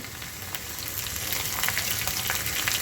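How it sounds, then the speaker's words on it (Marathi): Onion dropped into hot oil with chili and garlic for Maharashtrian besan pithla, a loud continuous crackling sizzle that builds slightly, close up and without speech. "यामध्ये आपण कांदा टाकून घ्यायचा आहे"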